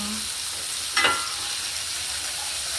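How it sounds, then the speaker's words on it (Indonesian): Eggplant frying in a pan for breakfast, a steady soft sizzle with one brief louder crackle near the start, close by and without talk. "Terongnya digoreng."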